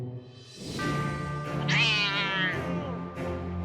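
A cat brought out during a dog-training session lets out a loud, close, drawn-out meow that rises and wavers, with a brief second call at the end and no talking over it.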